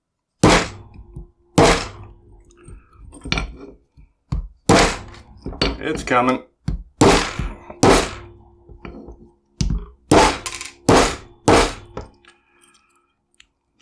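A hammer strikes a Concord combo cable lock in a rapid series of sharp metallic thunks and clanks, about a dozen hard blows up close, with brief speech between some strikes.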